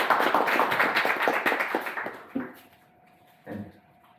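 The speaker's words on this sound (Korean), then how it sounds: "박수로 환영해 주시기 바랍니다" Conference attendees at LablupConf applaud to welcome a speaker: a full round of clapping from many hands that thins and fades after about two seconds, leaving near quiet broken by a few stray sounds.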